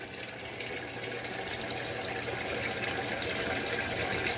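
Water runs steadily from an open faucet while an electric water heater tank is being refilled, a continuous broadband hiss that grows slightly louder over the few seconds, with no talking.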